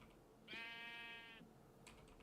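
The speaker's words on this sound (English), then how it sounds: "Mr. Pink Sheep, what do I do" A single sheep bleat in the Minecraft video game, one wavering tonal call lasting under a second, clear against a quiet background with faint clicks of typing around it.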